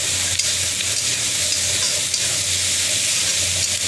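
Banana flower fry with salt being stirred in a hot pan, a loud, continuous close-up sizzle with constant scraping of the stirring utensil, and no voices.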